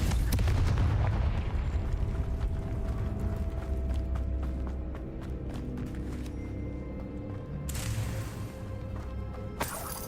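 Heavy booming blasts from the Confringo spell in the video game Hogwarts Legacy, with a rumbling low roar and a few sharper bursts over a continuous game soundscape.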